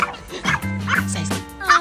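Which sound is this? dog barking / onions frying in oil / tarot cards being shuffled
dog barking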